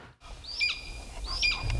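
Birds of prey at a rehabilitation center call twice, each a high, rising, squealing cry spaced about a second apart, fairly close over a low background hum.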